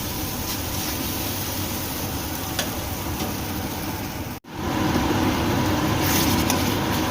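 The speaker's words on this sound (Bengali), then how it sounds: "এবার সমস্ত মশলা কড়াইতে দিয়ে লবণ হলুদ দিয়ে খুব ভালো করে কষিয়ে নেব" Steady broadband sizzling and crackling of spices with salt and turmeric frying in a hot wok, continuous throughout with a brief dropout near the end, no voices.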